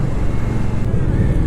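An Indian Scout 60 motorcycle engine braking while riding, a steady low rumbling drone with a continuous hum of road and wind noise.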